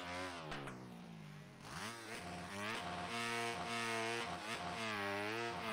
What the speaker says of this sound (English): I'm just wheel spinning on the spot